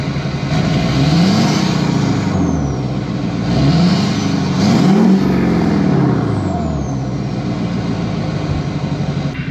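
A Duramax diesel truck with a 5-inch axle dump exhaust revs in place while stationary, throwing out three loud, deep rising-and-falling rumbles close by, with a brief hiss of air between pulls.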